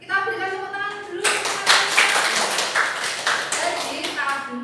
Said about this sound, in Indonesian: jadi kita berikan tepuk tangan dulu